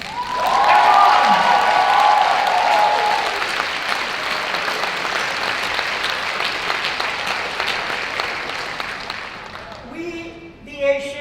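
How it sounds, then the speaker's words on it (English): Sustained applause fills a conference hall during the opening ceremony of a world conference on women's shelters, with a shout rising early on. The clapping fades toward the end as a voice starts to speak. "all the Asian and Pacific feminists give a big round of applause to every other woman from other continents"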